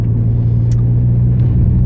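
Mazda 323F with an aftermarket exhaust, its engine holding a steady, loud, deep droning note close by, with no clear rise or fall in revs and no voices.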